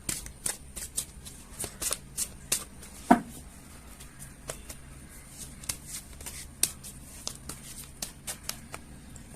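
Tarot cards shuffled by hand at close range in a quiet room, giving a run of soft, quick riffling slaps and snaps spread unevenly through the whole stretch, one louder snap near the start.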